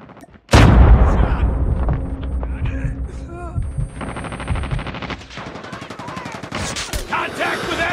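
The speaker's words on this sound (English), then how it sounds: "Watch out, grenade!" A grenade blast bursts out suddenly in Call of Duty Mobile, followed by loud, sustained automatic gunfire and rapid shots that fill the rest of the clip.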